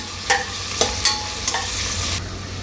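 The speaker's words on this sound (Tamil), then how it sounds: "இப்போ கொஞ்சம் இந்த ஆனியன்லாம் நல்லா வதக்கிக்கலாங்க." Onions sautéing in a pan for chicken biryani, a steady close sizzle broken by several sharp scrapes and clinks of a spoon stirring against the pan, no voices.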